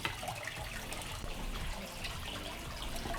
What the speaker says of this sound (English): let me rinse it out and then put it in